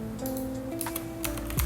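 Keys click on a computer keyboard as Ctrl C is pressed, a few quick close taps over a faint steady hum, with no speech.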